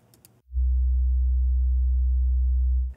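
A steady 63 Hz sine test tone from a signal generator, fed to both studio monitor channels, sounds as a loud, unbroken low hum for over two seconds after a brief bit of speech at the start.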